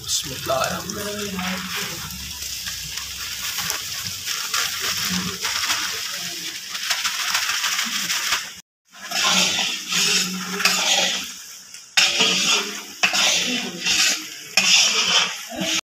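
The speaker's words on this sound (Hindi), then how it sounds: "अभी इसके अंदर मैं ये 4 किलो आटा डालने लगा हूँ।" Four kilograms of flour go into a pan over a low flame for cheerh halwa, followed by continuous scraping, stirring and faint sizzling. The sound is close and steady, with a brief drop near the middle.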